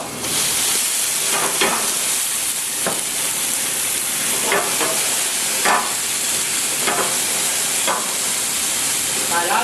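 Vegetables fry in a heated pan with a broad, steady hiss, punctuated by several sharp clacks of a utensil against the pan at uneven intervals, close by.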